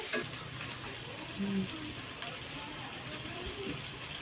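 Eggs and potatoes frying in a pan, a steady crackling sizzle with occasional stirring scrapes running throughout, moderately close, with faint background voices.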